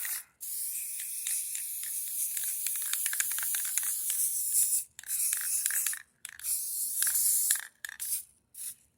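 Spray paint hisses onto a terracotta pot in a series of close, bursty blasts, some long and steady, others short, separated by brief pauses and a few faint clicks.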